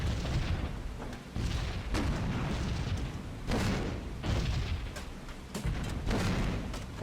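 Flak shells bursting around a B-17 bomber in a flight game, a steady barrage of deep booming blasts repeating every second or so over a constant low engine roar, loud and close.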